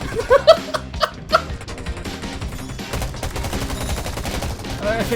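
Rapid bursts of gunfire in the survival shooter game Garena Undawn, sharpest and loudest in the first second and a half, then a denser, steadier stretch of firing and game sound that continues to the end.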